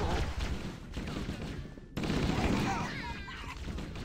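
Gunfire in the game Halo: Combat Evolved, with dense bursts of rapid shots and impacts that keep rolling over about four seconds, loud and continuous with a brief break in the middle.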